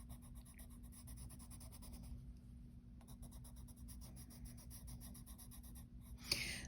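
Colored pencil strokes on watercolor paper, a steady close scratchy scribbling texture that runs almost without break, with a short pause near the middle and a sharper tap near the end.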